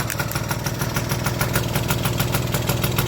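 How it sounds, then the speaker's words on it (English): An old Stuart Turner boat engine runs steadily with a loud, rapid rhythmic chugging and a leaking exhaust blowout, heard close up with no talking. "But the Stuart is running"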